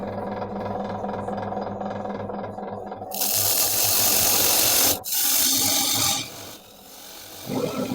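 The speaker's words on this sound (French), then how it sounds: "je vais utiliser mon grain d'orge et travailler perpendiculairement à la pièce" A wood lathe turns a workpiece while a skew chisel cuts perpendicular to it. The rough, hissing shave starts abruptly, runs loud and steady, breaks off briefly, resumes, then fades under the motor's hum.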